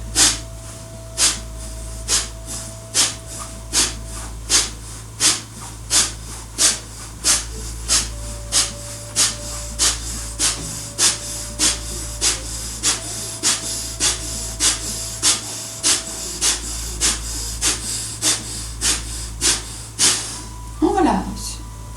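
Breathing exercise with regular, forceful breaths through the nose, a steady run of sharp puffs about once a second, close and loud, over a faint background hum.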